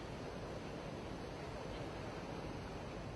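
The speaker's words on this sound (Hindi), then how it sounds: "गोपालपुर में तेज़ हवाएं चल रही हैं" Strong wind roars at Gopalpur on the Odisha coast during Cyclone Phailin, a loud, continuous rushing buffet with no breaks.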